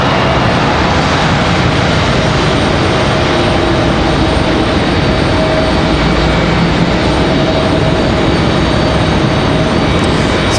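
A Delta airliner jet departs Raleigh-Durham International Airport for Detroit, its engines a loud, steady broadband roar that fills the whole stretch without letting up.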